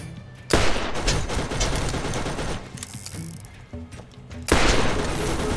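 Enemy gunfire in the Borderlands video game: loud, close bursts of rapid automatic shots with mechanical clacks and booms, the barrage easing midway and then surging again near the end.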